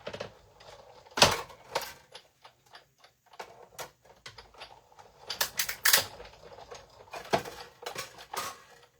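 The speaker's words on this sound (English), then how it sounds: "let me die cut all of it" Stampin' Up! die-cutting machine stamping shapes from card stock, giving a series of sharp, close clicks and crunching presses in irregular bursts, loud against a quiet background with no talking.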